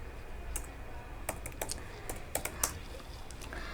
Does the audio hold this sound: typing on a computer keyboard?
yes